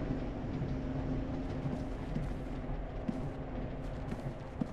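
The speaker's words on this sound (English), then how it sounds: "It's supposed to be an industrial train." An industrial train rolls along in the indie horror video game Husk, a steady low rumble with faint clattering and occasional knocks, continuous and fairly quiet, with no talk.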